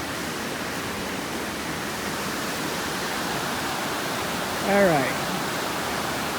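A steady, loud broadband roar of river rapids rushes below a bridge on the West Fork Dosewallips River, filling the whole clip, while a brief spoken remark rises over it near the end.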